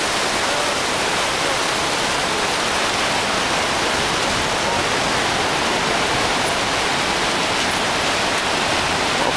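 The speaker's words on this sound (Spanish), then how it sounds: "podemos ver aquí la garganta del diablo. Una caída impresionante de agua." Devil's Throat waterfall at Iguazu Falls, Argentina, roars as a dense, steady wash of water noise, loud and unbroken throughout with no voices.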